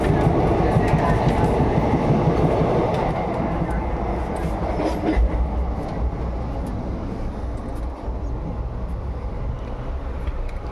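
Interior of an air-conditioned train coach on the move: a continuous heavy rumble with rhythmic wheel clatter and rattling, loud and close, with no clear talk.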